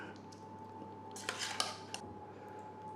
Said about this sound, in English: we just want to get this spooned into the pie dish.